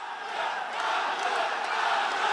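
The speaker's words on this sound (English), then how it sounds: "And the crowd's going to go." A crowd at an MMA fight night in Bahrain roars loudly and continuously, a broad wash of cheering and shouting that swells slightly partway through.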